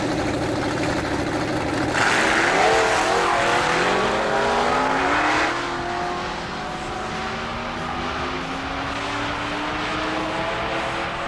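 A 1973 Plymouth Duster launches on a drag strip, its engine roaring loud and rising through the gears, then fading into a distant, sustained drone as the car runs away down the track.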